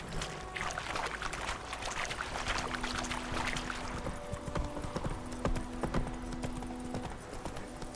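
Horse hooves clip-clopping at a steady trot in The Witcher 3, a rapid continuous beat of hoof falls close by with faint ambient game sound and a low tone underneath.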